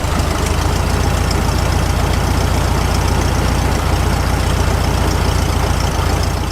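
A rebuilt VW Beetle engine idles loud and close, with a steady, even rumble and no talking over it.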